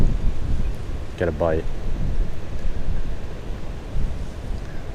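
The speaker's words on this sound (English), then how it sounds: "This wind's really messing with me right now." Wind buffets the microphone beside water while trout fishing from shore, a loud, constant rumbling roar running throughout, with a brief spoken phrase in the middle.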